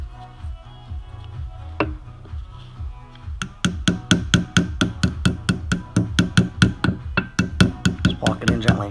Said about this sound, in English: Take a hammer and gently tap it in place.